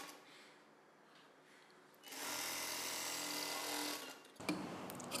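A sewing machine stitches the extra joined piece of a hook belt on a medium-size blouse. After a faint start, the motor whirs steadily for about two seconds, stops briefly and then starts again, close and fairly loud.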